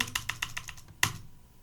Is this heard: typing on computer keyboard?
yes